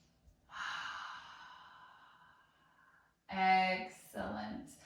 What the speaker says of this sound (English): Full deep breath.